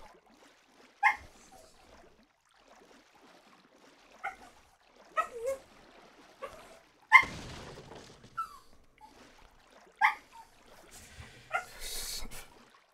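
Dog barks and whimpers in Resident Evil 4, played with the RE HH Project mod: a handful of short, separate yips and whines spaced across a quiet stretch, moderately loud against a faint game background.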